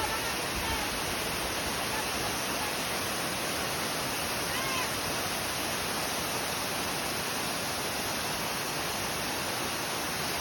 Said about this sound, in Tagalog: Guys, malakas yung tubig ngayon.